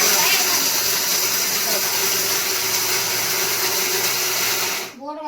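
A kitchen blender whirs steadily while making a mango shake with milk, a loud continuous motor roar filling nearly five seconds before cutting off abruptly, with faint voices beneath.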